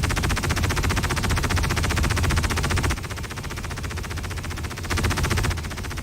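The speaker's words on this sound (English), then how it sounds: "We fire the guns." Ship guns firing in the space game Star Citizen, a loud, rapid continuous stream of automatic shots running the whole stretch with a brief dip in intensity midway, no voices.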